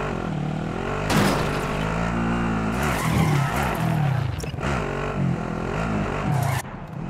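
A vehicle engine drives and revs in Call of Duty: Modern Warfare's Plunder mode, a steady loud motor drone that surges in pitch with brief tire-skid bursts throughout, no speech.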